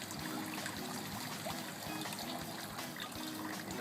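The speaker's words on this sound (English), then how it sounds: "we're just going to pour the pond water right through the screen" Pond water containing spirulina poured through a screen, a steady splashing trickle of liquid running continuously and close by.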